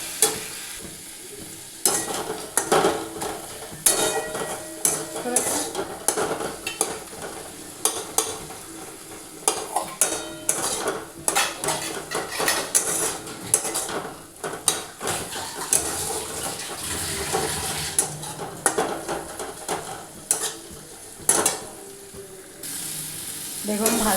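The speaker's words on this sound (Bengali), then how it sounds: "এবারে সবগুলো মিশিয়ে ভালো করে ভাজবো।" A spiced mixture with a pinch of Kashmiri chilli powder is stirred and fried in a pan, giving steady sizzling broken by frequent scraping strokes of the spoon, up close with no talking.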